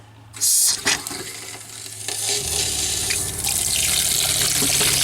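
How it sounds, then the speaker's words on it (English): Water gushes steadily from the cold side of an RV faucet into a sink, starting after a brief bump and continuing as a loud, even rush. "then I am going to run water through the cold water side"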